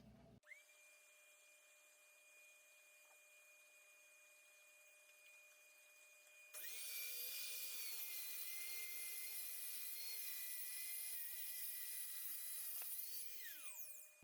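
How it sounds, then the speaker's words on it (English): Track saw cutting straight through a wooden glue-up: a motor whine spins up, then the blade bites in with a louder, sustained high-pitched cutting roar for several seconds before winding down, no talking. "perfectly straight every single time with the track saw"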